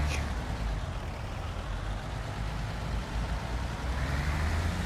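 A truck hauling a large excavator drives in Construction Simulator, giving a steady, dense engine rumble with a broad roar of road noise that holds constant throughout.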